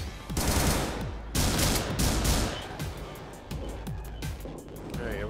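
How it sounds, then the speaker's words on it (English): Assault rifle fire from the game Butcher, loud rapid bursts with sharp onsets and decaying echoes, repeating in clusters over several seconds with no talk. "New type of weapon. Assault rifle."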